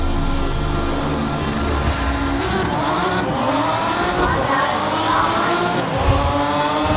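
Race car engines in GRID 2019 drone and rev steadily at the race start on an urban circuit, a loud continuous roar with rising and falling pitch and a couple of brief dips, heard alone.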